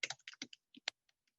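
A short burst of computer keyboard typing, roughly a dozen quick close key clicks in an uneven run, tapering into a few sparse taps, quiet and with no voices.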